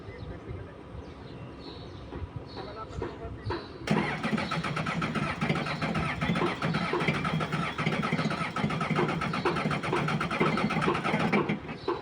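An engine cranks for a few seconds, then catches at once and runs with a loud, steady, rough roar close by.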